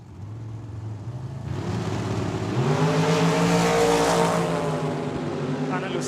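A dragster launches and races down the strip at Tucson Dragway, engine roar building from a low idle into a loud, rising blast that peaks midway and then starts to fade.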